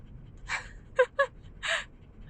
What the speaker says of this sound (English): And there's Rocket panting.